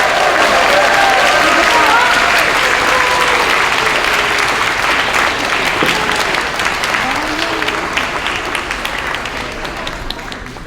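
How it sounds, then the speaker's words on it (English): A school concert audience gives a big round of applause for third graders, loud, dense clapping that carries on steadily and eases off slightly toward the end. "Let's have one more big round of applause for our wonderful third graders"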